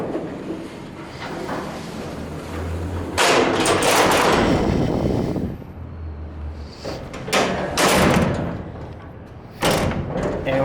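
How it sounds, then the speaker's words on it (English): A vintage Montgomery hydraulic freight elevator door in a civil engineering building rattles and thumps shut through several loud, clattering metallic bangs and scrapes, with a low motor hum between them. "And I'm going to shut the door."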